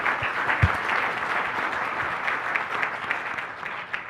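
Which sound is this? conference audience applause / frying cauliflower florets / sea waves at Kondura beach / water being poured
conference audience applause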